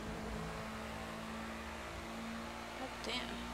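A car engine revving in the Grand Theft Auto V game, a constant low droning hum with tonal whine and a brief burst of higher revving near the end, fairly quiet and continuous.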